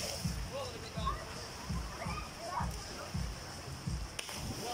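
People jump into swollen river floodwater after a typhoon, making a run of heavy splashes at a fairly even pace against a murky outdoor background, with voices faintly present.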